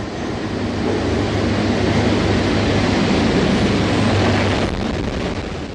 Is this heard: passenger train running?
yes